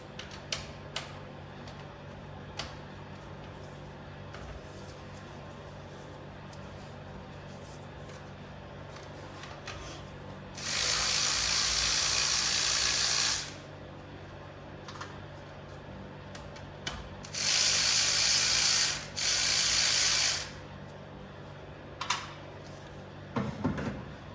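A ratchet working loose 10mm valve cover bolts on a B18B/B20 engine: scattered light clicks and taps, then two loud sustained bursts of rapid ratcheting, the second broken by a short pause.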